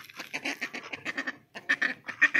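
A flock of ducks quacks at feeding time, loud and close, their calls coming in rapid overlapping bursts with a short lull midway.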